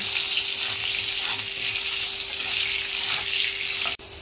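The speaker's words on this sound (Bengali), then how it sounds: "ওই তেলের মধ্যে আমি আলুগুলোও ভেজে নেব। একটু লবণ দিয়ে আমি এটা ভেজে নেব।" Potatoes frying in hot oil with salt for a Mukundi fish curry, giving a steady, loud, continuous sizzle that holds for about four seconds and then cuts off abruptly.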